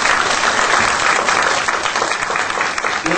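Congregation in a church breaks into steady, full applause, dense and fairly loud for the whole stretch, clapping together as a group without talk over it.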